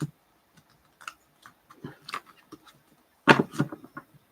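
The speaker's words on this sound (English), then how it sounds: "I'm going to shuffle while we're deciding." A deck of cards is shuffled close by, giving scattered soft clicks and papery riffles with a louder burst near the end, all without speech.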